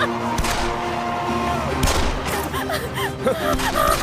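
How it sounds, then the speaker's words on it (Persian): A few sharp gunshots ring out close together amid tense shouting and a gasping voice. "تیراندازیه، خم شو، تیراندازیه."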